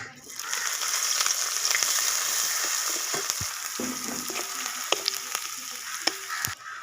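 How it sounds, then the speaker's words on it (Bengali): Chopped onion fries in oil with bay leaf, whole cumin and other whole spices, a close steady sizzle broken by spoon scrapes and stirring knocks in the later seconds. "তো 1 সেকেন্ড নিয়ে নেওয়ার পর আমি দিয়ে দিচ্ছি পেঁয়াজ কুচি।"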